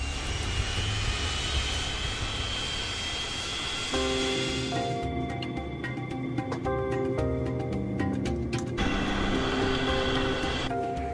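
A Boeing 737 jet airliner's engines roar steadily during takeoff, with whining tones shifting partway through as the loud engine noise carries on throughout.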